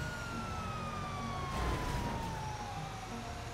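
A police car siren in Grand Theft Auto V wails in a long falling sweep over a rumbling car engine during a chase, loud and close, with a brief burst of noise midway.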